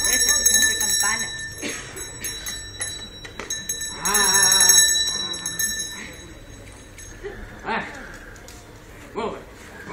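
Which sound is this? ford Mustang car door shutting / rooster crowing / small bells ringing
small bells ringing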